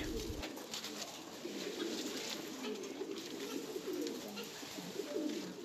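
Pigeons coo at a Thai pigeon farm. Soft, overlapping, throaty coos from many birds keep up a low, continuous murmur that sounds fairly close.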